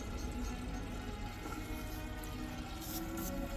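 Water pours steadily into a homemade biological pond filter from an inlet pipe, making a continuous, even rushing and splashing wash that stays constant throughout, with no voices.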